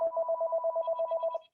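A phone rings during a municipal council meeting, a steady electronic ringtone pulsing in a rapid repeating pattern, clear and alone for under two seconds before cutting off.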